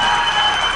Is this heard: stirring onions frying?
no